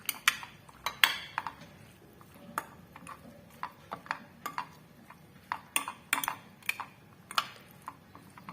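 A utensil clinks and taps against a bowl while egg is mixed into a seasoned potato mixture with salt and black pepper; sharp, irregular metallic clicks over a quiet background, no talking.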